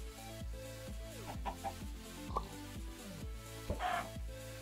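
Chickens in the Minecraft video game cluck in a quick series of short, clipped, synthetic clucks, repeated steadily over a quiet droning background, fairly faint and without talk.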